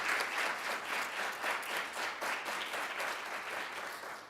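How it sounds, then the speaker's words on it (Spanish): A dense, sustained wash of audience applause at an LGBTIQ+ memorial tribute event, steady and fairly loud throughout, with no voices standing out. "Ese aplauso es para vos, Gloria, que estás en el cielo y me estás mirando."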